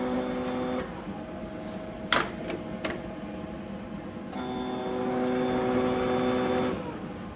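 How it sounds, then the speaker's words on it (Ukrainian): A Magnum MIG 281 Dual Puls Synergy three-phase MIG welder whirs with a tonal motor hum during a gas valve and wire feed test, with sharp clicks in the middle and the feed hum returning. "проводимо тест клапана газу, тест протяжного механізму."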